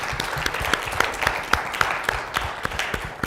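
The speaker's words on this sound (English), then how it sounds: "let's give a round of applause to all of our panelists" An audience at a university Black History Month unity forum applauds panelists with steady, moderately loud clapping, individual sharp claps standing out over a continuous wash of hands throughout.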